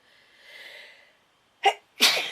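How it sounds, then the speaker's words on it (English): A person sneezes twice in quick succession, two sharp close bursts after a faint, breathy intake in an otherwise quiet indoor room. "I think I'm going to sneeze again"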